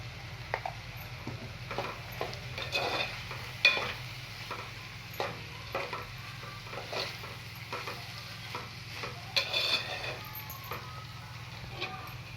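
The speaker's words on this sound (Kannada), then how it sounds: "ಎಲ್ಲದನ್ನೂ ಮಿಕ್ಸ್ ಮಾಡ್ಕೊಳ್ಳಿ ಚೆನ್ನಾಗಿ" A spoon stirs moth bean palya with salt in a hot pan, giving a steady soft sizzle with repeated light scraping and clinks close by, no one speaking.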